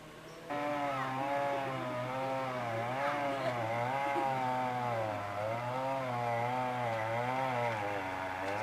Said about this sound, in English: They saw the wood with a chainsaw, and the boards are pretty straight too.